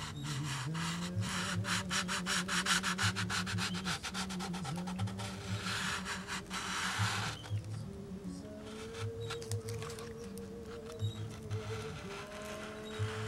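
Sanding a plastic cockpit part for a Windy U Master 957 glider, working the abrasive into an angle: steady close-up rasping strokes in a repeated back-and-forth rhythm, with no talk.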